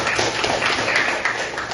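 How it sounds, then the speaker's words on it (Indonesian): Students in a classroom clap together in dense, continuous applause that holds steady and fairly loud for the whole stretch. "Tepuk tangan sekali lagi untuk kita semua."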